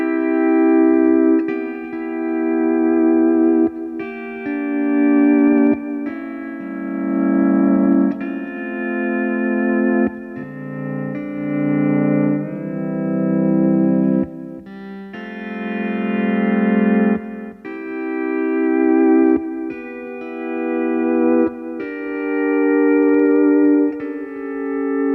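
Pedal steel guitar playing the hymn There's Something About That Name, with sustained chords that swell and glide between positions in slow, phrase-by-phrase waves, close and clear with reverb and no talking.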